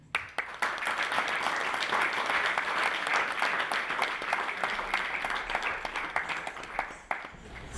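A seated audience at a Bharatanatyam dance performance breaks into sustained applause, dense steady clapping that fills the room for several seconds before thinning out toward the end.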